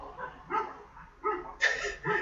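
Several dogs bark in short bursts nearby, with a few yips and whimpers spread across a moderate, uneven stretch.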